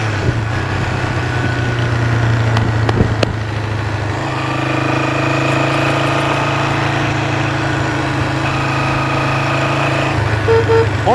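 A Honda motorcycle engine runs on half choke, idling loud and close with a steady buzzing drone that wavers slightly as it breaks up, with no talk over it.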